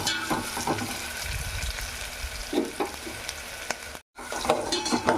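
Carrot and capsicum pieces fry in a pan for veg lemon rice, a loud steady sizzle broken by scraping stirs of a spoon, with a brief cut to silence near the end.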